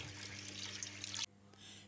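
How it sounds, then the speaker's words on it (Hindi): Water poured from a jug into a pot of besan kadhi curry masala; a steady splashing pour for about a second and a quarter that stops abruptly, leaving a low hum beneath. "और 2 जग पानी के इसमें डाल देंगे पकने के लिए"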